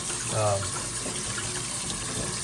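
Tap water running steadily as a K&N air filter is rinsed clean of oil and dirt, a continuous close splashing hiss that stays even throughout, with no talk.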